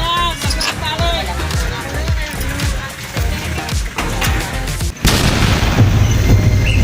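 A vehicle tire bursts mid-road with a loud, sharp boom about five seconds in, followed by broadband rumbling, after a stretch of chatter and busy background noise with people talking.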